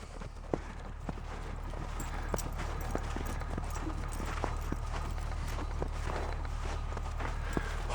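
Footsteps cross the ice toward an ice-fishing tip-up, a faint steady series of soft crunching steps over low wind rumble, with no talking.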